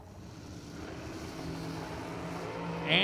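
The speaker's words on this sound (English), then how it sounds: "Door car leaving first, dragster giving chase." At a drag strip, a door car and a dragster accelerate away with a rising, distant engine roar that builds steadily. A sharp burst close to the microphone comes right at the end.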